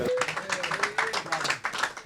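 Brief clapping from a small group at a boxing post-fight press conference, a handful of distinct, irregular claps with faint voices underneath.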